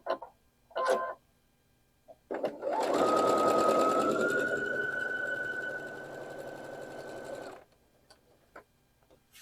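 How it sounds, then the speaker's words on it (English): A sewing machine stitches a quilt block row for a nine patch block, a short stuttering start followed by about five seconds of fast, continuous rattling hum with a steady motor whine, then stopping, with scattered handling clicks around it. "I'm going to take this row and sew it to this"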